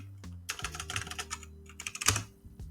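Fingers type a command at a computer keyboard in quick, close bursts of clicking keystrokes separated by a brief pause, with no talking.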